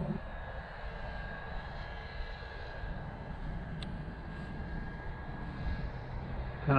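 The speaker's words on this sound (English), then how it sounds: "Just some line of sight flying, fun little 2S plane." Small 2S electric RC plane with twin motors flying line of sight, a steady high motor whine continuing for several seconds at a moderate distance, slightly louder at the end.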